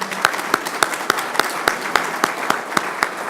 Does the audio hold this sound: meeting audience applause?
yes